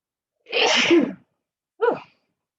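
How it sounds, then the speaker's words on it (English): A single loud, close sneeze bursts out, followed after a short pause by a quick sniff or breathy exhale. "I feel a sneeze coming on."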